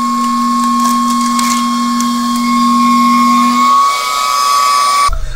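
A powerful add-on cooling fan fitted to a Veteran Sherman electric unicycle blows with a steady, loud whine and hum close by, its lower drone dropping away near the end before a brief clatter.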